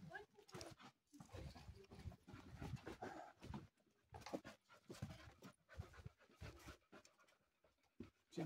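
A dog pants steadily in rapid, rhythmic breaths, close by, while hiking among the Prachov Rocks in Czech Paradise, with some background rustling and movement.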